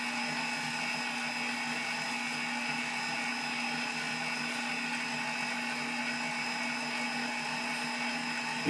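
A budget stand mixer kneading pizza dough, its motor whirring at a steady, even drone with a constant high whine throughout and no talk.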